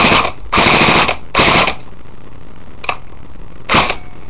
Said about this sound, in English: So, let's just make sure it fires. And then on full auto.